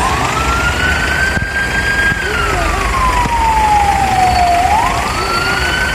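A wailing siren sweeps slowly up and down in pitch, loud and continuous, with steady traffic rumble beneath it.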